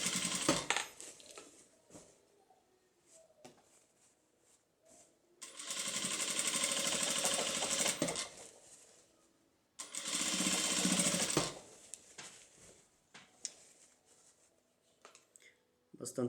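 A domestic sewing machine runs two seams on a fabric bag in two steady, whirring bursts of a few seconds each, with quiet handling noises and soft talk in between.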